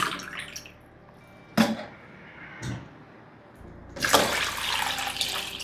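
Water poured into a glass in short bursts, a brief splash, a pause, then a longer gurgling pour at the end.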